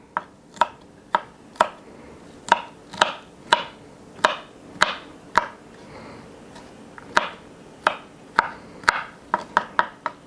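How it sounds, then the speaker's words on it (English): A knife chops through vegetarian spring rolls on a board, about twenty sharp, crisp cuts landing close up in an irregular rhythm, some spaced apart and a quick cluster near the end, with no talking. "now all we have to do is just cut them up"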